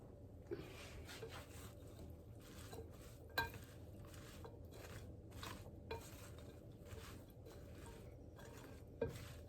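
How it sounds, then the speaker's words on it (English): A spoon stirs and scrapes through thick chickpea-flour pakoda batter mixed with ginger paste. Quiet, rhythmic mixing sounds carry a few sharper clinks against the bowl. "Mix it nicely."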